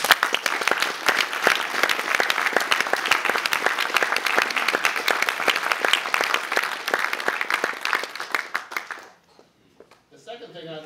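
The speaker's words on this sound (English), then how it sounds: "I'd like you to offer up an applause for everybody that supported you in this time." Graduation crowd at a paramedic ceremony applauding steadily for about nine seconds, dense loud clapping that then cuts off, followed by a quiet moment and faint voice.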